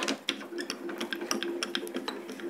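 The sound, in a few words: craft die and plate run through a die cutting machine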